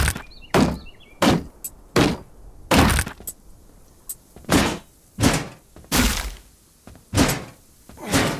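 A series of sharp, heavy smashing impacts from breaking an object open in the video game Dysmantle repeats roughly every half second to a second, loud and close, with quiet gaps between hits.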